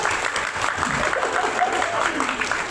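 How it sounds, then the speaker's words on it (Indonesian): An audience at a workshop applauds continuously, a dense, steady clatter of many hands, loud and close, with a voice faintly audible underneath. "Tepuk tangan yang belum punya TikTok"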